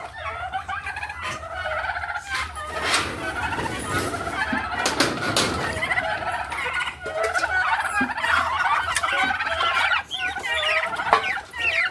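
A flock of farm turkeys gobbles and clucks at feeding time, a loud, dense, overlapping chorus that runs without a break, with no one talking.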